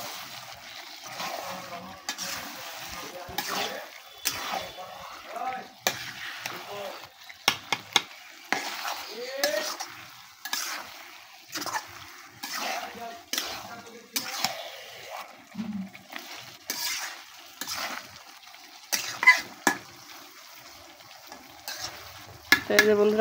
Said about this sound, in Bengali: এখন নেড়ে চেড়ে মশলাগুলো খুব ভালোভাবে মাংসের সাথে মিশিয়ে নিচ্ছি